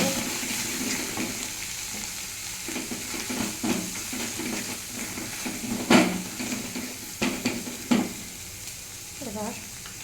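Poppy seed paste with potato, ridge gourd and onion is sautéed with turmeric and cumin powder in a pan, a low steady sizzle broken by spatula scrapes and clanks against the metal, close by.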